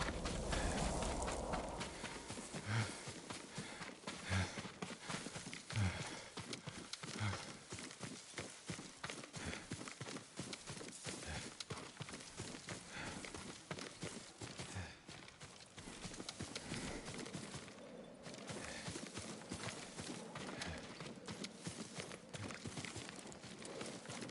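Steady clip-clop of horse hooves at a walking pace in Ghost of Tsushima, fairly close, with a busy ambient game soundscape underneath and no talking.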